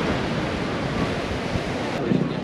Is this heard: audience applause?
no